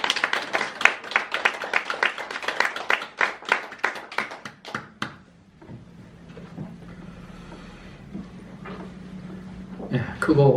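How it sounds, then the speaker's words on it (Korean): A small church congregation claps during a Sunday worship service, a few ragged bursts of hand claps for about five seconds that trail off into quiet room noise, with a low hum and a faint rustle near the end. "우리 하나님께 영광의 박수 올리겠습니다"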